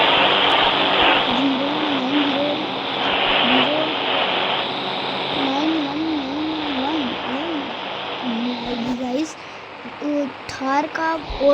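A police monster truck engine in the Indian Bike Driving 3D video game drones loudly and continuously, with wavering pitch swells from revving as someone talks over it.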